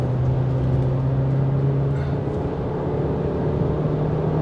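A Morris Garage SUV engine runs at full throttle in sports mode, a steady, loud droning hum with a constant low tone that holds without letup, heard from inside the cabin with no talking.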